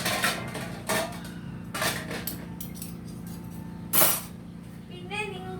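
A spoon stirs tomato rice in a metal pot, giving a few scattered clinks and scrapes against the rim, while someone talks over a low kitchen hum.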